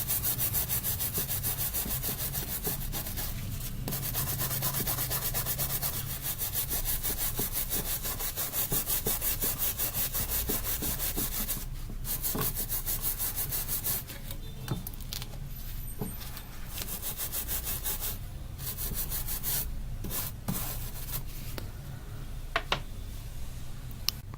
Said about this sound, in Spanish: Retiramos todo el exceso de flux quemado que haya quedado.